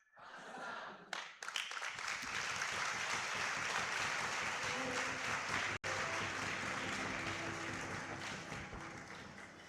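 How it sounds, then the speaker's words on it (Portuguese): A church congregation applauds after a sermon, a sustained burst of dense clapping that fills the room, with a brief pause partway through and a voice faintly underneath. "Mais uma salva de palmas."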